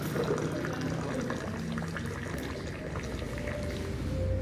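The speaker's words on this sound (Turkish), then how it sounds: "Bunu böyle yukarıdan döküyorsunuz." Liquid poured from high above into a glass at a restaurant in Casablanca, Morocco, a continuous splashing, frothy pour lasting several seconds, close and steady.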